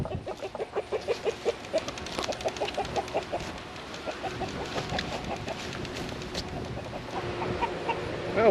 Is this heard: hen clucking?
yes